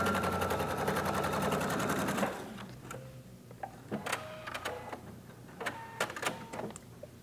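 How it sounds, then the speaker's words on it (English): Sewing machine stitching a fabric strip for a quilt, a fast rhythmic clatter for about two seconds, then stopping and giving way to scattered light clicks and handling sounds. "I'm going to go ahead and sew another strip on this side"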